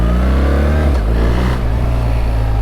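A BMW R 1300 GS motorcycle engine heard while riding, a loud, steady mid-pitched drone that shifts briefly as the engine changes speed, with wind rush and no talking.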